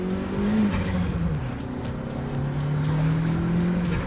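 A VW Sharan with a turbocharged engine accelerates, its engine note rising and holding steady at moderate loudness from inside the car, with no talk over it.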